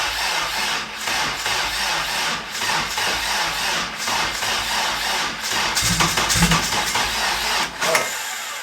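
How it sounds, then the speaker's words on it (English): A repaired engine cranking over as it tries to start, a continuous rhythmic grinding churn with a slight surge near the end, close and fairly loud. "So let's hear if it cranks on."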